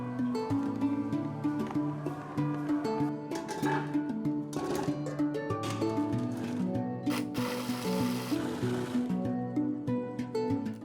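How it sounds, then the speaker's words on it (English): An electric mixer chops six large tomatoes for a meatless Turkish çiğ köfte, running continuously for about ten seconds with a steady, buzzy motor whir and rattling blades, loud and close with no talk. "I take 6 large tomatoes into the mixer and chop them."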